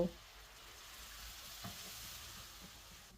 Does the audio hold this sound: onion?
yes